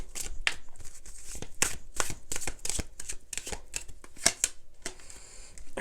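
Tarot cards riffled and shuffled in a rapid papery flurry, with crisp slaps and snaps as individual cards are pulled and laid down, close and clear, no talking.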